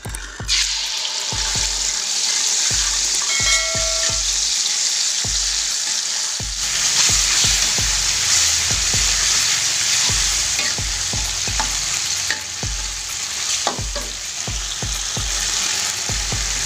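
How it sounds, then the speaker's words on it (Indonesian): Catfish for pecel lele fries in hot oil, a loud, continuous close sizzle broken by frequent clinks and scrapes of stirring throughout. "Dan ini kita goreng ya. Kita goreng sebentar."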